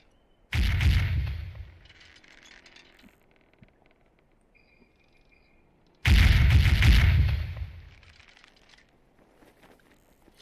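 Two heavy broadside volleys from a sailing ship's cannons in the game Sea Dogs boom out several seconds apart, each a loud blast rolling into a long fading rumble, with quiet gaps between and no voices.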